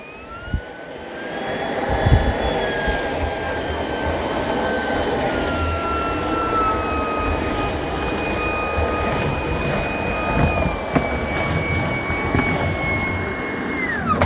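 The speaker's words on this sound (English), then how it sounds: "This is the best cordless vacuum cleaner, the Shark Detect Pro." A Shark Detect Pro cordless vacuum cleaner runs steadily with a high whine and airy rush, its pitch shifting slightly as it works, close by and alone.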